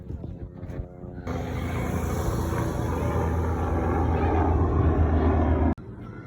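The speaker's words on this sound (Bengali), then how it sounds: "helicopter helicopter" A loud, sustained engine drone with steady mechanical whine, like a helicopter passing close overhead, cutting off abruptly near the end.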